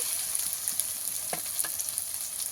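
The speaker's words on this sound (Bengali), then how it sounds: "পেঁয়াজটা আমি কিছুক্ষণ ভেজে নেব" Onions sprinkled with a little salt fry in a pan, giving a soft, even sizzle with a few faint scrapes of stirring through it.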